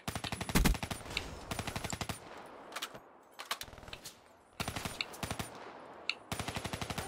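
Automatic weapons fire in Call of Duty: Black Ops 3 during a team hardcore kill confirmed match, with loud, close bursts of rapid shots separated by short pauses and no talking.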